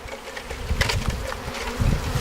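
Honeybees from a package being installed into a hive hum and buzz close by, a dense steady drone with a few louder swells, no voices.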